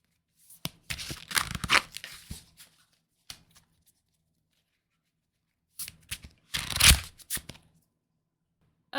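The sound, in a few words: shuffling and pulling tarot cards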